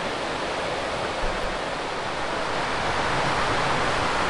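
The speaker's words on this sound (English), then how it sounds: "They're shooting those rapids." River rapids rush in a loud, unbroken roar of churning whitewater, steady and close with no pauses.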